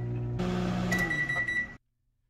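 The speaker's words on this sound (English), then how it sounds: "I'm going to toss them in the microwave and let's taste test them." A kitchen microwave oven hums as it runs, then a bright electronic beep sounds near the end before it cuts off to silence, close and clear.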